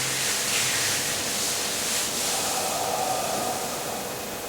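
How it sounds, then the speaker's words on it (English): Hands rubbing the knees during a qigong self-massage, a steady dry friction hiss running close and continuous throughout with no talking. "I rub the knees."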